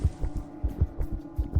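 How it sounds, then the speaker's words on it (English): A human heart item in the video game Lethal Company beats slowly in its low action phase, a deep muffled double thump repeating about twice a second over a faint hum. "The human heart from Dyne will beat faster depending on how severely you have the fear effect."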